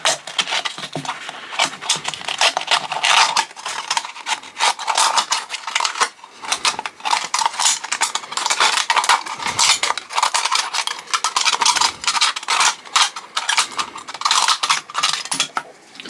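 Sheet metal being cut into a ring for a Trangia spirit stove, a dense run of sharp metallic snips and scraping rasps that continues steadily, close and fairly loud, with no talk.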